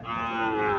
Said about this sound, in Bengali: এখানে একটা গাভি দেখা যাচ্ছে, দেশি গাভি।